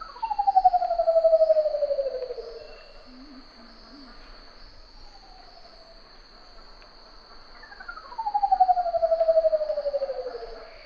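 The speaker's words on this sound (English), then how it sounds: "The reason the curl-crested manicode can make these incredible sounds is because they have a hidden feature under their skin" Curl-crested manucode calls in Papuan forest: two long, low, descending whistled notes several seconds apart, clear and fairly near, over a constant high insect drone.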